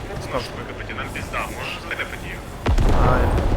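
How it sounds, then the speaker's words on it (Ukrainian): Enemy artillery fire in the tactical shooter SQUAD: a loud, deep blast lands near the end, following a stretch of rumbling battlefield noise and scattered distant booms. "Арта ворожа, тікайте нахуй з актуала"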